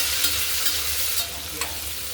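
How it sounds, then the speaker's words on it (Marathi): Chopped onion and green chillies fry in a pan with a steady, close sizzle and occasional light stirring scrapes, with no voices. "आता याच्यामध्ये कट केलेला कांदा घालू, मिरच्या घालू आणि याला परतून घेऊ"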